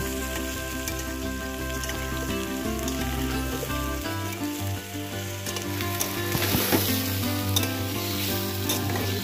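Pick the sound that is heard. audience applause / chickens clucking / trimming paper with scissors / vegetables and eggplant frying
vegetables and eggplant frying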